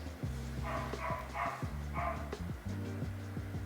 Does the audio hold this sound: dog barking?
yes